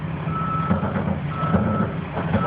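Reversing alarm on a 1996 Thomas MVP ER school bus backing up, a steady repeating beep over a low idling engine rumble, close and continuous.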